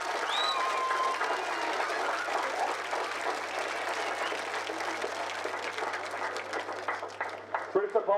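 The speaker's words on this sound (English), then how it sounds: "Round of applause for the effective today." Spectators clapping for the referee at a Gaelic football county final replay at Brewster Park, a dense steady round of applause that thins toward the end, heard at a distance under a commentator's voice.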